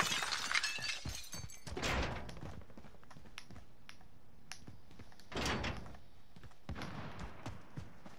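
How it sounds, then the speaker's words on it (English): Glass window shattering in the Warzone video game, a sharp crash with bright scattering shards near the start, followed by further clattering bursts and impacts amid game noise, with no talk. "I'm going to break glass."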